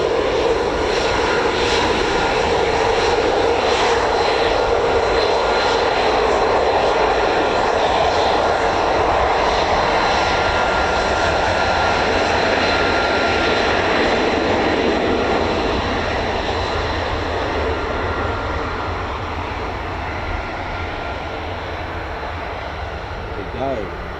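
F-35 Lightning stealth jet with the engine running ahead of departure, a loud steady roar that holds for most of the stretch and eases slightly toward the end, with a voice talking over it.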